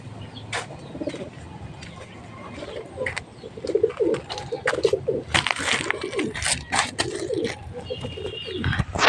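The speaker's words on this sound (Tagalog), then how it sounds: "Yan na mga kalapatids." Pigeons coo repeatedly at close range during pigeon training outdoors, soft throaty calls mixed with chirps and a few brief background noises.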